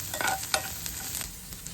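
Ingredients sautéing in a pan for Korean noodles, a quiet brief sizzle with a couple of quick scraping stirs of a spatula against the pan, close by.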